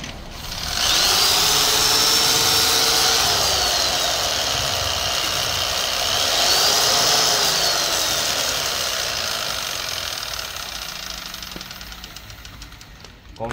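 A 390W electric jigsaw with variable speed runs in two rising and falling bursts, whining near and loud before tapering off.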